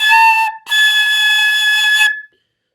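A flute sounds a high, pure sustained note with clear overtones. It breaks briefly after about half a second, then holds for another second and a half before stopping, played alone and close.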